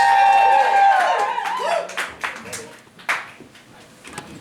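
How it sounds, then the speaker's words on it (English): An audience at a poetry night gives a poet a burst of applause, hand claps fading into scattered claps, with a voice talking over the start. "Give him a round of applause."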